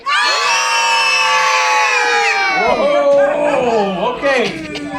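A large crowd of children screaming together at a circus, a loud sustained chorus of high shrieks and yells that breaks into scattered cheering and whoops, close and filling the space.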